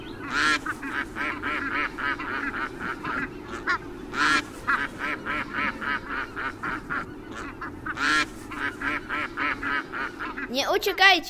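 A flock of ducks quacks and honks in a steady, busy chorus with louder bursts every few seconds, close by, ending in a scramble of flapping and calls; a voice speaks now and then beneath them.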